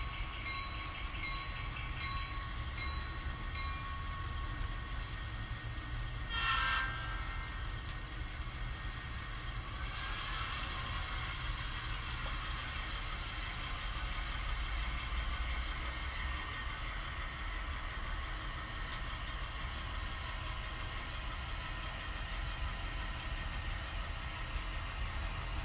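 A model train locomotive creeps slowly at its lowest speed step on a layout, giving a faint, steady electric motor hum with soft rail noise throughout and a brief clicking sound partway through.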